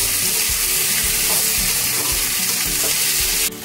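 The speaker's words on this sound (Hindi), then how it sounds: "मैंने 6 रफली चॉप प्याज लिया है, इसमें डाल देंगे। गोल्डन ब्राउन होने पर भून लेंगे" Roughly chopped onions for chicken biryani fry in oil over a low flame, giving a steady, loud, close sizzle that holds evenly throughout and drops slightly at the very end.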